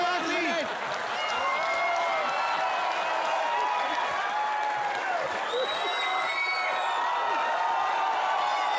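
Studio audience on a comedy talk show breaks into steady, sustained applause with cheering, a dense wash of many hands clapping over roughly nine seconds, voices mingled in the crowd noise.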